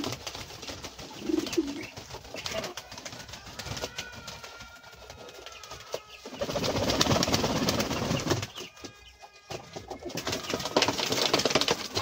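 Pet pigeons coo softly and steadily in a loft, with occasional wing flutters and scuffling close by, under a faint background hum.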